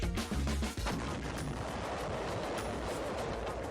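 Archival footage captures the demolition blast of Fort Drum, a concrete island fortress. A loud, sharp detonation is followed by a long, dense roar and rumble of debris.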